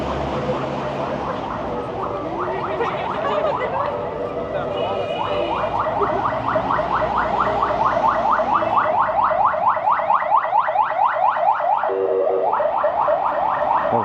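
An ambulance siren wails in rapid, repeating sweeps on a city street in Kabul's Shahr-e Naw district, growing louder and closer over the traffic and the hum of people talking nearby.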